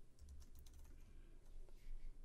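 Someone types quickly on a computer keyboard while coding in C++; the soft, close clicks come in rapid bursts over a low background hum, with no talk.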